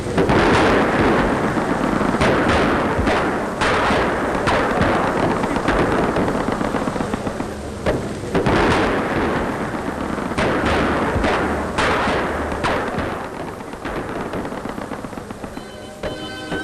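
Loud, dense battlefield gunfire from the Red Army's storming of Kiev in 1943: rapid machine-gun bursts and rifle shots overlap with heavy artillery booms, sustained throughout with no pauses.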